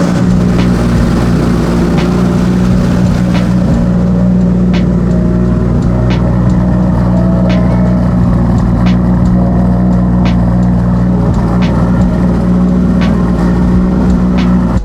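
A Proton Satria 4G93 turbo engine runs at a fast, steady idle after a cold start, close by. A loud constant hum carries faint regular ticking throughout.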